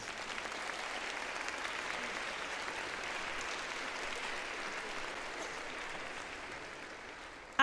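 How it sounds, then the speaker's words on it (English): Students and families applaud parents at an elementary school spring concert, a dense, even wash of crowd clapping held steadily throughout before cutting off abruptly. "Students, let's give our parents a round of applause."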